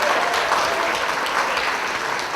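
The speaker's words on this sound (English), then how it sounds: "Can we have a huge round of applause for this?" An audience at a celebration event for a Holocaust survivor gives a big round of applause, a loud, even, sustained clatter of many hands clapping without pause.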